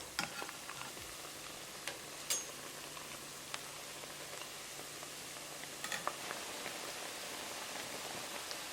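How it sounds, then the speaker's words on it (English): Chickpea shakarpara dough pieces deep fry in hot oil, a quiet, steady bubbling hiss with a few sharp crackles and taps scattered through. "Once they deep fry, they will start opening up."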